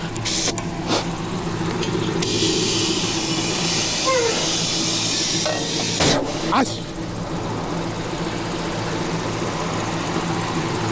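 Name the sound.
Cheetah air tank inflating a truck trailer tire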